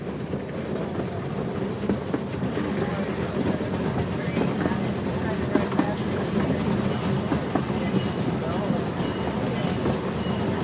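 A ride aboard a steam train at Los Gatos, California: a continuous rumbling roll with clattering wheels and faint squeals all the way through, with voices talking over the steady noise.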